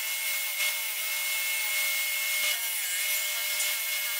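Steady abrasive rubbing against wood, a continuous gritty whir with a high machine whine, close and fairly loud without pause.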